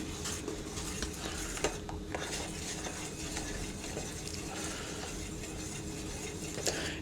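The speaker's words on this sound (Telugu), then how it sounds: "అది ఇందులోకి వేసి కలుపుకుంటూ ఉండాలి" A spoon scrapes and swirls steadily through ragi flour porridge in a pot on a stove, soft continuous stirring with faint metallic clinks, close and without speech.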